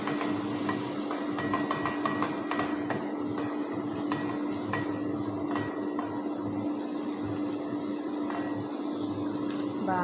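Boiled Maggi noodles are stir-fried in a pan, with a spatula clinking and scraping against the metal in quick irregular taps over a steady background hum while a voice speaks.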